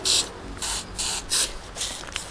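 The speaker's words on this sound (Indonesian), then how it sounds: "menggunakan semprotan ini cukup mudah sekali teman-teman" A hand sprayer mists homemade botanical pesticide onto plant leaves in about six short, hissing bursts separated by brief pauses, loud and close with no talking.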